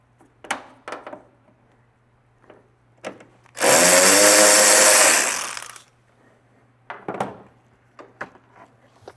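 A power tool removes a bolt from a Mercedes Sprinter van panel: scattered clicks and taps give way to a loud whirring burst of about two seconds, then more light clinks follow, with no talk.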